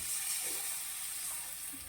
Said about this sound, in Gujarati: આને કહેવાય કદીનો વઘાર ઓરિજિનલ વઘાર આને કહેવાય